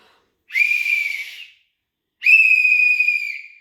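A whistle is blown twice, two loud shrill blasts about a second long each, separated by a short silence.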